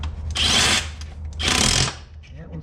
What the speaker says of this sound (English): Little impact here, shouldn't take just a second.